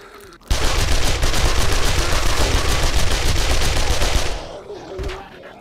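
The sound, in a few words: SMG magazine dump gunfire in 7 Days to Die video game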